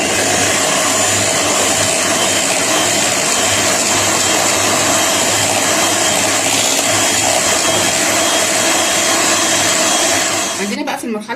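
Electric mixer beats cake mixture with milk in a home kitchen, a loud, continuous motor whir holding steady for several seconds before cutting off at the end.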